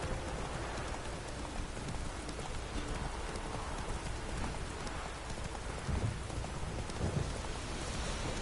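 Roach the horse in The Witcher walks with soft, steady hoofbeats under a constant hiss of heavy rain, with faint low thunder rumbling in the background and no talk.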